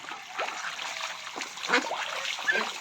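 Water trickles and splashes steadily where Pekin ducks bathe in a backyard, with small irregular splatters over a soft continuous flow, close and fairly quiet.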